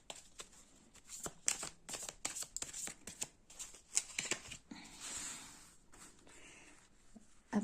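Final Roses Tarot cards are shuffled close up, a string of crisp papery slaps and riffles in uneven bursts, followed by a longer soft sliding rustle, quiet overall with no talking.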